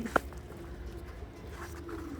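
Racing pigeons coo softly in a quiet loft, a low murmuring call with one brief sharp chirp near the start, faint and fairly close.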